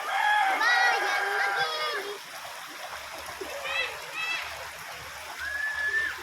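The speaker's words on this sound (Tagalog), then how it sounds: "Ayan, malakas ang tubig sa likod." Strong runoff after heavy rain streams and splashes steadily nearby, while people talk and call out over the flowing water.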